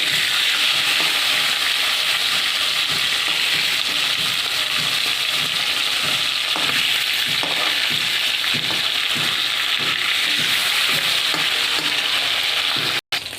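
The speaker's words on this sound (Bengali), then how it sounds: "মাছটা ভাজা হয়ে গেছে, তুলে নিচ্ছি" Hilsa fish pieces frying in hot oil in a pan, a loud, continuous dense sizzle with occasional stirring scrapes, close up, cutting off abruptly near the end.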